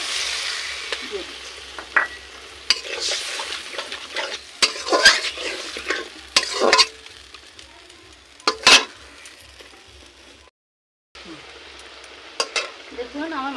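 Red masala stirring and frying in oil for a snakehead (shol) fish kalia: a continuous sizzle under loud, irregular clanks and scrapes of a spatula against the pan, with a brief silent pause near the end.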